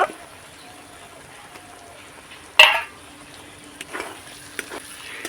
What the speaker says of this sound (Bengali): মশলা আলু ভালো করে আমি কষিয়ে নিয়েছি